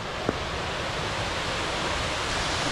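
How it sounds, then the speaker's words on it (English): A tiered waterfall in the Brecon Beacons, Wales, roars as a steady, dense broadband rush of falling water, close and constant throughout with no voices. "There is a waterfall."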